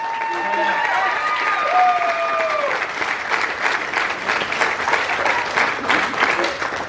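Wedding guests break into steady, sustained applause in an indoor reception hall, a dense crowd clapping loudly over a faint tonal sound near the start.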